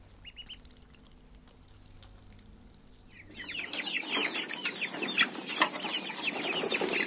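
Free-ranging country chickens at a poultry farm cluck and chatter as a dense, continuous flock. The sound starts faint and swells to a loud, busy chorus after a few seconds, with some wing flapping and no speech.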